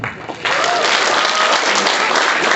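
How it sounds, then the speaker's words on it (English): Audience applause at a college talk in Bangalore, starting after a brief lull and holding steady and loud as a dense wash of clapping from a crowd filling the hall. "So huge round of applause for yourself."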